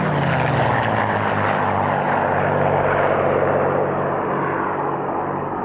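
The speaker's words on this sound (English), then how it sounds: "Now two North American P-51D Mustangs fly in for their display." Two North American P-51D Mustang fighters flying past at a Duxford airshow, a loud sustained propeller-engine roar that slowly shifts and fades in pitch, with no voices over it.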